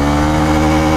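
Honda Bros 150 motorcycle engine held at its rev limiter in first gear, a loud, steady high-revving buzz with dense harmonics, up close and unbroken for about a second with no talking.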